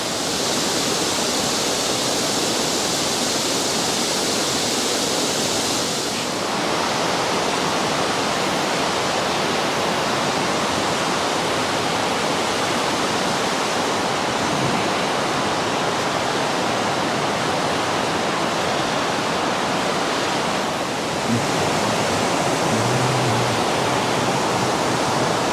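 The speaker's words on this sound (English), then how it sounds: "We got Shawnee Falls in the background here." Shawnee Falls at Ricketts Glen State Park roars with a steady, loud, broadband rush of falling water that continues unbroken, with no voices over it.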